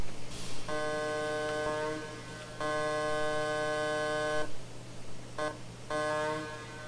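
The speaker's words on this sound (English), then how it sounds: "The late locomotives get an air horn." Air horn of an MNRR MT-3 4-8-2 steam locomotive in Trainz 2019 sounds in three loud sustained chordal blasts, the first two long and the last cut short, over a steady low engine hum.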